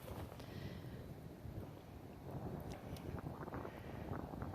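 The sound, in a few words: wind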